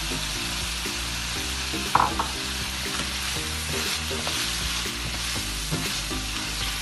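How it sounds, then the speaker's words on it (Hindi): Cumin and nigella seeds frying with minced meat in a karahi for qeema karahi: a steady, close sizzle with repeated stirring scrapes and one sharper clatter, running alone throughout without talk. "फिर इसी में ये ज़ीरा और कलवंजी भी शामिल कर देंगे।"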